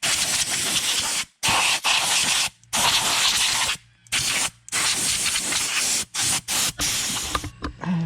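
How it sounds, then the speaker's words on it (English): Spray paint hisses from an aerosol can in a string of bursts with short pauses between them, aimed at BMW E90 brake calipers over a cardboard box on the grass in a yard, close and loud. "spray some paint"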